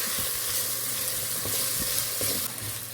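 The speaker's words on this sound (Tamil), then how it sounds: "தக்காளி நல்லா வதக்கி விட்டுக்கலாம்" Tomatoes and onions sautéing in a pan for prawn biryani, a constant close sizzle broken by light stirring knocks and scrapes, with no talking.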